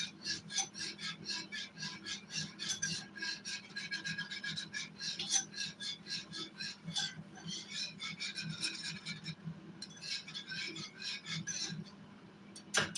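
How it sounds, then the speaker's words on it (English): A thickening chicken casserole mixture is stirred in a single pan, giving a steady rasping scrape repeated in quick strokes throughout, fairly close and continuous with a brief pause near the end. "I'm going to keep stirring this"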